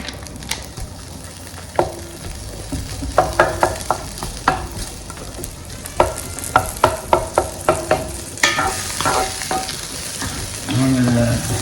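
Pancetta sautéing in a couple of tablespoons of olive oil, a steady close sizzle with bursts of sharp popping and spattering, plus occasional stirring scrapes, and a louder hiss rising near the end.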